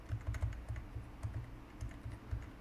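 Rapid, steady typing on a computer keyboard, close and fairly quiet, with keys clicking in quick irregular bursts throughout and no voices.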